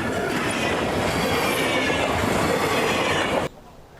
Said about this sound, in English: And the SD50 and Caboose is heading down grade on the Buckley sub.